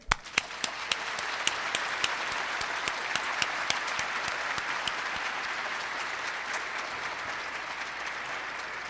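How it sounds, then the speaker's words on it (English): An audience at the 2012 Breaking Through Ceremony applauds the staff of Genesys Works, a dense, steady wash of clapping that starts sharply, holds loud and even through the whole stretch, with a few sharper individual claps on top. "please give a round of applause to the well-deserving staff of Genesys Works"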